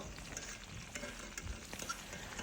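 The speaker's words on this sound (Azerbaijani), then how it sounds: "Qoyuruq badımcanı o üzbüz qızarmağa, yaxşıca qızardılır." Eggplant pieces frying in a pan for a Talysh sirdağ dish, with a soft, steady crackle and sizzle and faint stirring ticks close by.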